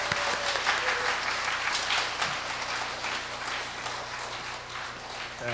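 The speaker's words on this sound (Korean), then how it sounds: "우리 강윤규 담임 목사님 나오실 때 뜨거운 박수로 환영하겠습니다." A church congregation at a mothers' prayer meeting gives warm, sustained applause to welcome the pastor, a dense, even roar of clapping from a large indoor crowd that fills the whole stretch without pause.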